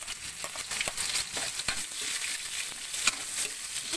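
Garlic sautéing in a hot pan during a farm-style Kapampangan cooking session, a steady close sizzle and frying hiss with occasional stirring scrapes throughout.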